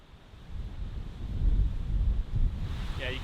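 Gusty wind buffeting the microphone atop a high cliff at Pictured Rocks, a low roaring rumble that swells and eases, with a faint voice near the end.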